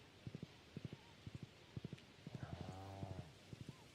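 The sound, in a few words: horse hooves clip-clopping in the video game Stardew Valley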